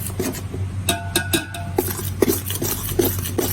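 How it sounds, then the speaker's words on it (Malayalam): A spoon stirs grated coconut through a semolina laddu mixture in a pan, producing close scraping and soft clinks of utensil against metal in an uneven, continuous rhythm, with no talking. "നന്നായിട്ട് ഇളക്കി കൊടുക്കുക"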